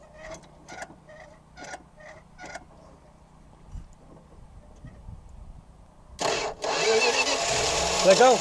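A 1969 Plymouth Fury III, an old car coming back from storage and short on coolant, cranks in a few faint repeated bursts, then catches near the end and runs loudly and roughly up close.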